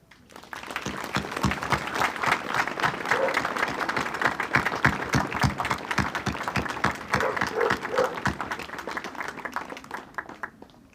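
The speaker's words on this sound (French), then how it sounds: "je pense qu'on peut tous les applaudir et vous applaudir" Audience applause at an inauguration ceremony for an Allied camp at a leisure base in Caudry: dense, rhythmic crowd clapping with sharp individual claps standing out, swelling in quickly and holding steady before tapering at the end.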